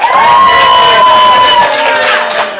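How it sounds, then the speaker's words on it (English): An audience at an improv comedy sports show cheers for the red team, a loud burst of whooping and shouting voices that rises quickly, holds, then begins to fade. "So on the count of 3, cheer for red."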